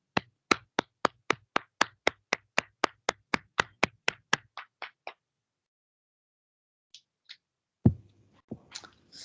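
Steady single claps from an online church congregation welcoming a sermon, about twenty evenly spaced hand claps that fade out, followed by silence and a few faint stray sounds.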